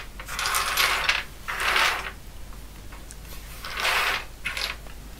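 Plastic keycaps being pried off an IBM 5120 keyboard, heard as four bursts of clicking and rattling at an even pace, close and fairly loud, with short quiet gaps between them and no talk.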